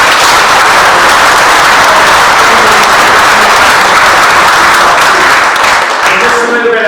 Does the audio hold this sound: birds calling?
no